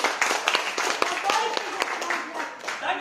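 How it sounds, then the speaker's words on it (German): Children and adults clap for a young helper at a magician's show, a lively, uneven patter of hands with sharp individual claps, with voices and chatter mixed in throughout. "du kriegst einen riesen tollen Applaus"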